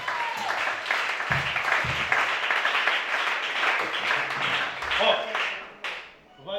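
A church congregation at a worship service applauds continuously, a dense, steady wash of clapping mixed with voices that swells slightly before dropping away near the end.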